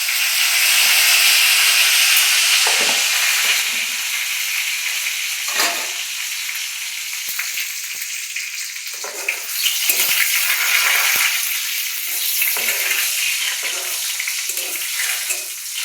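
Bay leaves, five-spice and dried chillies frying in hot oil for bottle gourd curry, a loud close sizzle that settles into steady crackling with occasional stirring clicks.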